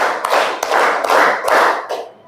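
A class of students claps in unison to a counted rhythm, several sharp group claps in a regular beat, loud and near, tailing off into quiet at the end.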